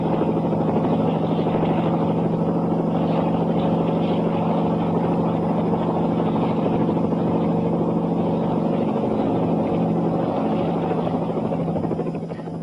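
A rescue helicopter flies during the severe UK winter freeze of 1962–63, its engine and rotor drone steady and loud throughout with a low hum, fading slightly at the very end.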